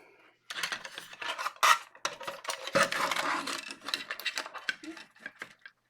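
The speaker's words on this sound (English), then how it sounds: "Now we need to screw that from underneath" Small screws driven by hand from underneath into a part of a DeLorean scale model kit, giving close, irregular scratchy clicks and rubbing scrapes with no talking.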